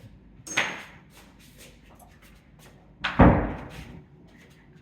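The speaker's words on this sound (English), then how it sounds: "Close the door." A door being closed inside an apartment: two solid thuds, one soft and one louder a few seconds later, over quiet room tone.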